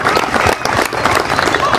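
A church congregation clapping for Christ during a sermon, loud dense applause from a crowd with voices mixed in.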